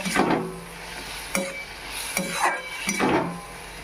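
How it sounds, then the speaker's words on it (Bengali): Small fried fish cooking in a pan with ridge gourd as a little water goes in, with a steady sizzle and several distinct stirring scrapes of a utensil against the pan, close and moderately loud. "এবারে দেব সামান্য পরিমাণে জল এখানে বেশি জল দিচ্ছি না"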